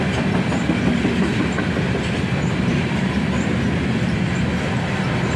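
A manifest freight train led by ES44ACH and ET44AH locomotives rumbles past close by, a steady loud roar of rolling wheels with faint rhythmic rail clatter and no pauses.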